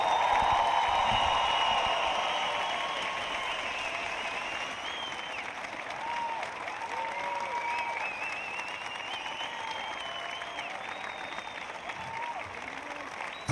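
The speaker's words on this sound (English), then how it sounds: "would like to thank and give a big round of applause to Kristen Holte." A large crowd at the 2021 Dubai CrossFit Championship applauds CrossFit athlete Kristen Holte with steady, dense clapping and cheering that starts loud and settles into a sustained roar for the whole stretch.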